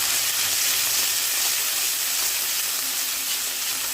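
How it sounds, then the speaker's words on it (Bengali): Minced garlic, ginger and green chilies sizzle in a little hot oil in a heated kadai, a steady, close, bright hiss that holds evenly from start to finish with no voices. "এবার রসুন, আদা আর কাঁচা লঙ্কা কুচি দিয়ে দিলাম তেলে।"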